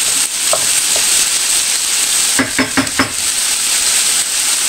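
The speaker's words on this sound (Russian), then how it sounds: "И капустой жареной, и картошкой жареной пахнет одновременно." Cabbage and potatoes fry in a pan with a steady, loud sizzling hiss throughout, broken briefly by a few quick clinks of a utensil.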